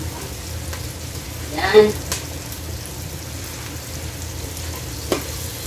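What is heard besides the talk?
onions sautéing in a pan for chicken sotanghon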